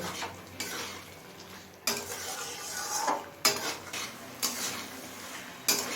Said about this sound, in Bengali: এবার মিডিয়াম ফ্লেমে সব কিছু খুব ভালোভাবে কষিয়ে নেব